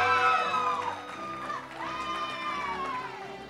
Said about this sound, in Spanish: Un fuerte aplauso para José